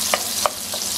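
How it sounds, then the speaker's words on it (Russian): Onion and garlic frying in a pan for a salmon pasta sauce, a steady sizzle with a few brief scraping stirs, close and alone. "Лук и чеснок. И все это обжариваю."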